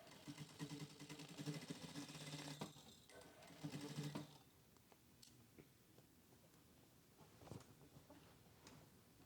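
A sewing machine stitches a crotch gusset in black fabric with a steady, close mechanical whirr for about four seconds, then stops and leaves only light handling noises.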